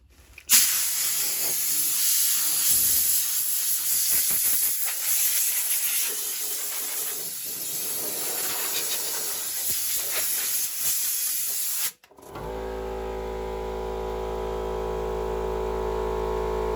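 An air sprayer gun run from a compressor, blowing a loud, steady rushing hiss close up for about twelve seconds, then cutting off abruptly, after which the compressor's low, droning hum carries on.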